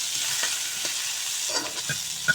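Spices with turmeric and chili powder stirred and fried in a pan for ghugni, a steady sizzle under scraping spoon strokes and a few brighter clinks, with no talking.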